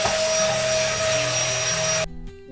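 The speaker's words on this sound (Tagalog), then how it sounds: "Second round ng ating pa-vacuum." A vacuum cleaner drones loud and steady up close while sucking up cat hair indoors, then cuts off abruptly near the end.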